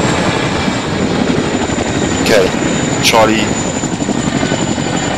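Helicopter rotor chopping during an extraction in the video game Operation Stomper, a loud continuous thrum dominating throughout while soldiers shout commands over it.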